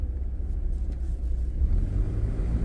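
Cabin rumble of a 2000 Jeep Cherokee XJ with the 2.5 liter engine and 3-speed automatic, driving along as a steady low road and engine drone.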